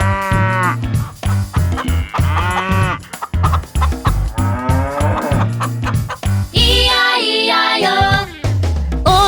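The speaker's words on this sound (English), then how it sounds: "With a moo-moo here and a moo-moo there." Cows moo loudly and repeatedly at close range, with the drawn-out lowing calls following one another and some clucking fowl sounds mixed in.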